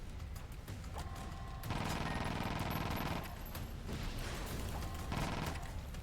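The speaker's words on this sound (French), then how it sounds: "Pas mal ce petit Gatling là." Gatling gun fire in the Sand Land video game, a dense steady rattle of rapid shots that swells into louder sustained bursts twice, with continuous game effects underneath.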